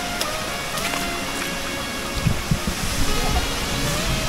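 Damai Waterfall pouring in the rain on a Malaysian hike: a loud, constant rushing roar of falling water with a few low thumps near the end.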